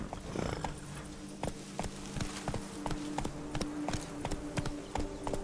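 Rapid, rhythmic clip-clop of a horse's hooves galloping in The Witcher 3, with steady repeated hoofbeats over a background of movement noise and a brief whinny-like sound early on.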